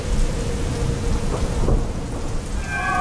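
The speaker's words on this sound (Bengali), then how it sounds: "বৃষ্টির গতি যেন আরো বেড়ে গেল।" Heavy rain pours steadily in an animated cartoon, with rumbling thunder rolling underneath the dense hiss and a few high tones at the end.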